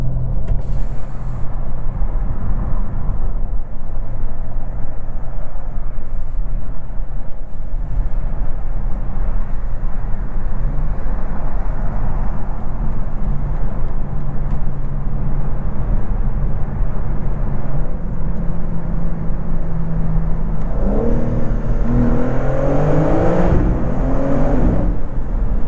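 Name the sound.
BMW M4 xDrive Competition engine revving in a tunnel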